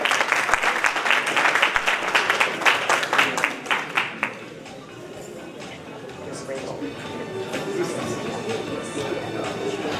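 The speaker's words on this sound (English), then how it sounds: "Let's give her a round of applause." An audience at a community holiday gathering breaks into lively, loud applause with sharp rhythmic clapping that stops abruptly after about four seconds, leaving a murmuring room and faint voices afterward.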